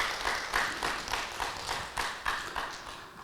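An audience at a poet's lecture claps in a rhythmic, evenly spaced pattern of sharp hand claps that stays loud and steady throughout.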